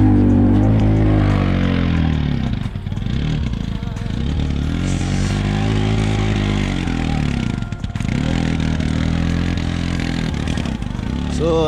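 A Pulsar NS motorcycle, believed to be breaking down, drones steadily throughout while being ridden, with a low rumbling engine note that rises and falls gently over the whole stretch.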